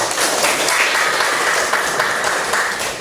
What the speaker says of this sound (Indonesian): aplaus untuk kelompok